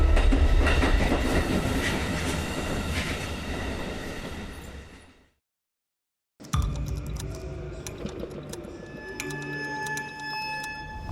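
A train passes at a Baltic railway station, loud rumbling and clattering of rail wagons close by, cutting out briefly to silence before resuming with squealing, ringing metallic tones.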